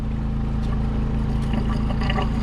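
Water pours fast and steadily into a tank at a beach campsite, a dense continuous rush with a low mechanical hum running underneath throughout.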